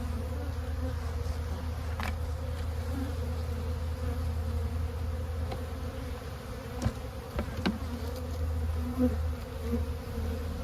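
Honey bees crawling over brood frames in an open hive, bees emerging, a steady close droning buzz with a sustained hum and occasional sharper passes of individual bees.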